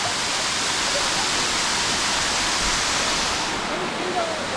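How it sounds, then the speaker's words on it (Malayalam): Waterfall in the hills of Chikmagalur, Karnataka, water pouring down from above as a steady, loud broadband rush that fills the whole clip without a break. "ഇത് മുകളിൽ നിന്നുള്ള വെള്ളം ഒഴുകുന്നുണ്ട്"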